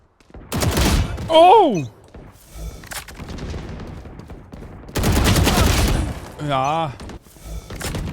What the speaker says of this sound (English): Stop shooting aimlessly, just aim and then shoot.